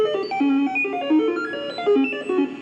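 A string of quick electronic beeps from an Atari 800 computer jumping between random pitches, bright and synthetic, playing alone without pause.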